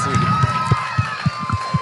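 An audience cheers and claps at a film trailer launch for an actor's mother, with rhythmic claps in a steady beat under crowd noise and voices.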